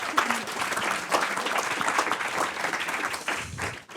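Audience applause following a startup pitch at a sextech event, a dense, steady wash of many hands clapping throughout, with a little crowd murmur underneath.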